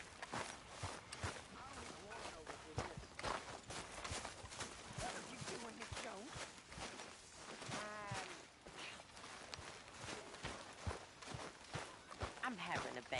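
Horse hooves clip-clop in a PS4 video game while a character walks the horse, the steady rhythmic hoofbeats running throughout under frequent character dialogue and background game sounds.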